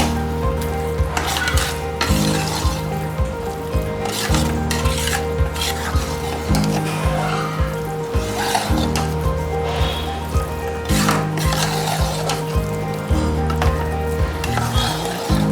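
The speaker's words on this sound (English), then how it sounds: "Mix it well." Ven pongal being stirred in a cooking pan, with a steady sizzle and repeated scraping and clinking of the spoon against the pan, close and continuous with no talking.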